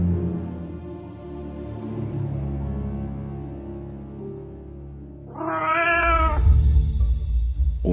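Over a low musical backdrop, a single drawn-out cat meow rises clearly near the end and stands alone.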